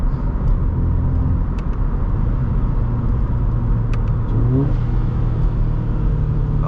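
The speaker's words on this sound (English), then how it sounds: "those rev matches are nice" A 2013 Subaru BRZ engine drones loudly and steadily from inside the cabin, with a rising rev blip near the end as the car downshifts, and no talking over it.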